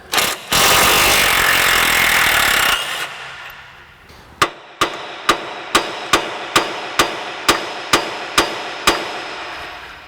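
Metal hammer blows on a tie rod of a 2004 Ford Explorer during rear wheel bearing work: a loud grinding burst first, then about a dozen sharp, evenly spaced strikes ringing close up.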